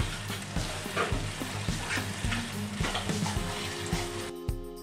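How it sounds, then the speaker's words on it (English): Tomato frying in a pan for restaurant-style mutton curry, a steady loud sizzle close by, broken by the rhythmic scrape of stirring, with no talk. "Then after add tomato and fry well"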